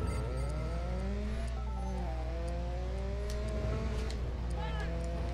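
A car engine in the Driver San Francisco video game hums and shifts pitch as it rises and falls through revs. It runs continuously and loudly, layered with other game sounds.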